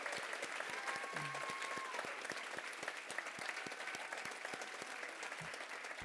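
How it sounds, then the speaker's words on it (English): An audience at a spring gala honoring Barbara L. Pearce breaks into sustained applause, steady clapping from a crowd heard at moderate distance throughout. "I think we should give her a big round of applause"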